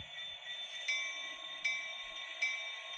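A small electronic model train bell rings steadily, with three brighter strikes at regular intervals, a thin metallic tone heard close and fairly quiet.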